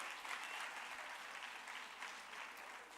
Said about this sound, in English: A round of applause for Councillor Eseza Ngapambi.